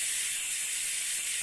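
A pneumatic brake bleeder fed with 20 psi of shop air gives a steady, close, breathy hiss that holds evenly throughout, with no talking.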